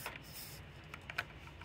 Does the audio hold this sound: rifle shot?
no